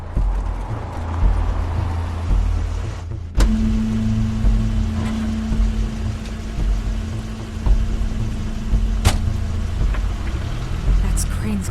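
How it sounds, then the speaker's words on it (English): Engine of a game car pulling up in a video game, a steady low hum that starts abruptly and holds for several seconds under other game sounds, with faint voices. "That's Crane's car."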